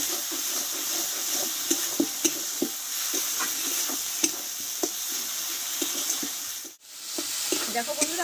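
Masala with crushed garlic fries in a pan for an egg and drumstick dish: a continuous sizzle runs throughout with sharp stirring knocks scattered over it, and it dips out briefly once near the end.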